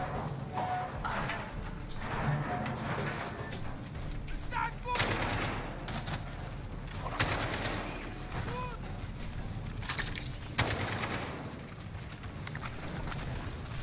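An AK rifle fires in a Modern Warfare single-player realism campaign, with repeated bursts of automatic gunfire and scattered shots against a noisy battle backdrop. The shots vary between nearer and farther, and a voice is faintly present underneath.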